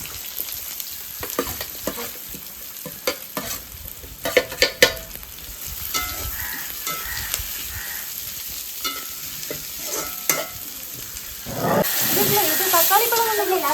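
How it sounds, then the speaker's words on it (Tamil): Crab goes into hot oil for a crab roast, and the oil sizzles with stirring clatter that swells into a loud continuous hiss near the end. Someone talks over the first part. "நண்டு ரோஸ்ட் செய்ய போகிறோம். அதுக்காக எண்ணெயை விட்டாச்சு. போட போகிறோம்."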